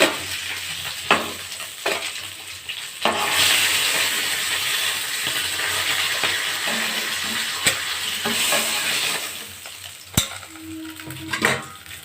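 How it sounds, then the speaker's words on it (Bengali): Shol fish frying in hot oil in a pan, a steady sizzle running throughout with occasional sharp clinks and scrapes of a utensil against the pan, close and fairly loud, no talking. "মাছ ভাজা হয়ে গেছে, এবার আমি নামিয়ে নেব।"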